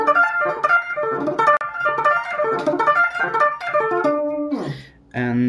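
An electric guitar sweep-picked with thumb muting at the bridge plays quick, rolling arpeggio runs in a steady repeating rhythm, close and clear, ending with a sliding note and a brief final strum.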